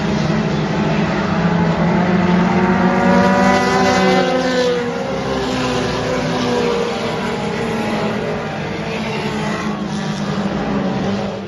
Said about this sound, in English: Tyler Griffith's going to bring us back to green at the Radon Services of Kansas start zone here.